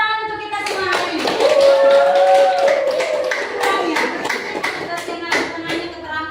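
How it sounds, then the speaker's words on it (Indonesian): Classroom of students clapping together, a burst of rapid claps with children's voices chattering and calling out over it, fairly close and lively. "Tepuk tangan untuk kita semua hari ini."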